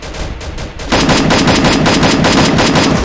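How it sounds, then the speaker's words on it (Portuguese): Loud automatic gunfire in the video game Free Fire, a dense rapid burst that starts about a second in and keeps going without a break. "Tô atirando uns caras, mano."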